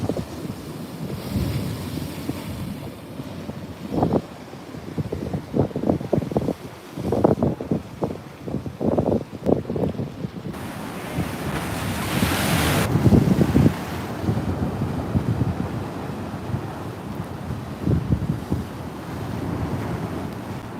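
Ocean surf rolls in as a set of waves breaks, a loud steady roar with surging swells, heavily buffeted by wind against the microphone.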